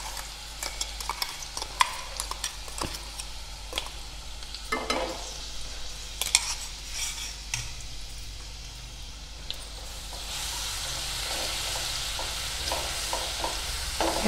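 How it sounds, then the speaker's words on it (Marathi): A paste of green chili, cumin and garlic fries in hot oil, with irregular stirring taps over a low sizzle that swells into a louder, steady hiss partway through. "मिरचीचं आणि जिरा आणि मिक्सरला लसूण लावले आहे त्याचं वाटण टाकून घेत आहे तेलात"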